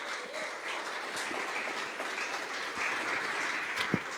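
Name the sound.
congregation applauding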